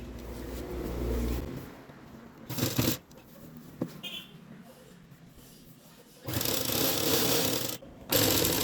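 Sewing machine stitching a pocket piece on a nighty: close bursts of rapid mechanical clatter at the start, middle and end, separated by quieter handling and a few clicks.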